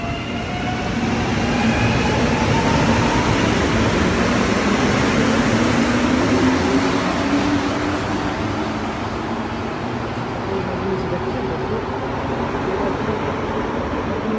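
A subway train roars loudly into an underground station in Montreal, its rumble steady and echoing, with rising whines as it pulls in.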